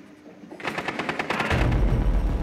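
Rapid automatic gunfire in Rainbow Six Siege, a quick burst of close, loud shots that builds into a denser, heavier barrage with deep booming low end, no talk over it.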